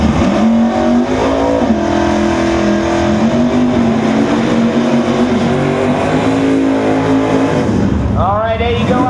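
Drag race cars launching at a drag strip, including a 1992 Mustang with a 427 cubic inch engine and nitrous, loud engine roar rising in pitch through gear changes, with a second car screaming past at the end and an announcer talking over it.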